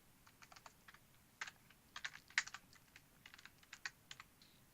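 Quiet, close computer keyboard typing, irregular bursts of light key clicks with short pauses between them.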